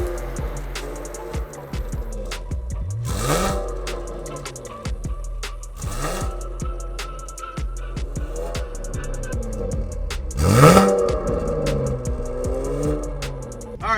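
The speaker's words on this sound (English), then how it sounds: "This is just to give you an idea of the noise, vibration, and harshness of the car." Interior cabin noise of a 2018 Chevrolet Camaro driving over a bumpy road: a steady low road rumble and drone with repeated thumps and rattles from bumps, close and continuous throughout.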